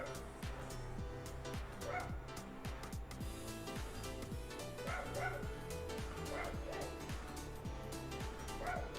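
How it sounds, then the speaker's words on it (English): Several dogs outside bark, yip and whimper in quick irregular bursts, somewhat distant and fairly faint, with a person talking at times over them. "Can you hear the dogs outside?"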